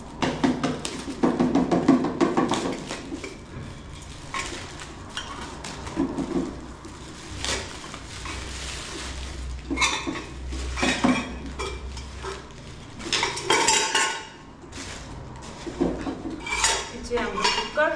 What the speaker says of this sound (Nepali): त्यही भएर मैले नेपालबाटै मगाएको यो प्रेसर कुकर चाहिँ